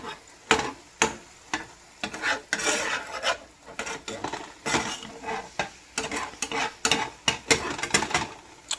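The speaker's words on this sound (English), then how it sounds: "keep mixing everything" A spoon scrapes and clinks in a pot on the stove over medium heat, stirring a boiling mixture in quick irregular strokes, with soft rubbing and light metallic taps close up and no talking.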